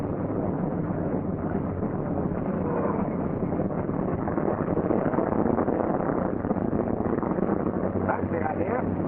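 C-47 aircraft piston engine firing up and running, a loud continuous rough roar with wind-like rumble, close and steady throughout.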